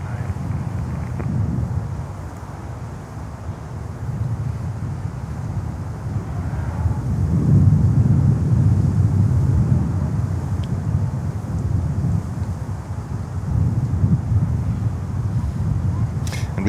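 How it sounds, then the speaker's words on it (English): A Volaris Airbus A321 landing on runway 9 at Miami airport, heard from afar as a low, swelling engine rumble mixed with wind noise on the microphone, rising and easing over the stretch. "next inbound is a 321 from Volaris coming on runway 9"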